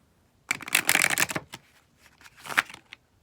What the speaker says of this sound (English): Let's get a good shuffle match going.